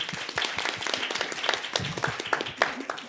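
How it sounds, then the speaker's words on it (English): A live audience at the opening of an ASEAN–Korea innovation panel session breaks into a round of applause, dense overlapping claps at steady strength that carry on for several seconds. "Why don't we start the session with a big round of applause?"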